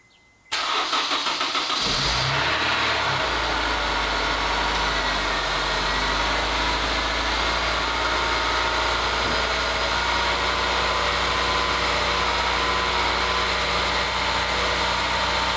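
A Honda S2000 engine, in a car being treated for burning oil, starts and then holds at high revs on the rev limiter, a loud, sustained, steady drone close by with a faint high whine running above it.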